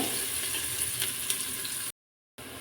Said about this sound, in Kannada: ಇದು ಆನಿಯನ್ ಎಲ್ಲ ಫ್ರೈ ಆಯಿತು ನೋಡಿ